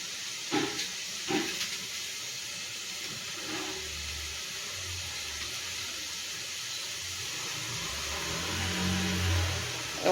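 Ingredients for a village-style fish curry sautéing in a pan, giving a steady sizzling hiss that runs throughout with a few faint clinks near the start, close and moderately quiet.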